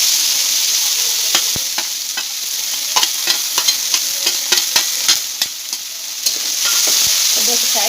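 Whole cumin, bay leaf and black cardamom crackle in hot oil for an eggplant curry, with a steady sizzle broken by many sharp pops and spits, close and fairly loud, and no talk.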